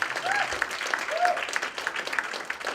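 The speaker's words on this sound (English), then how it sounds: "So please give our congressional candidates a huge round of applause for coming out here tonight." Applause from the crowd at a 2017 candidate forum for congressional candidates, a steady moderate round of clapping with a few faint whistle-like tones, with voices audible beneath it.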